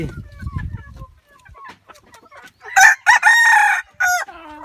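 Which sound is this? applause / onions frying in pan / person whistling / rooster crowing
rooster crowing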